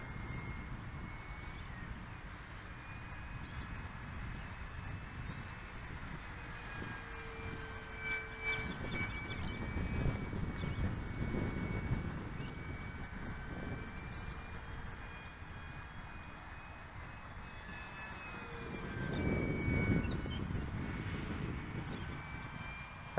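An Avios Hawker Sea Fury 1200mm foam RC model plane flies overhead, its electric motor whining as a steady tone that swells louder on two passes and drops back between them, with no talking.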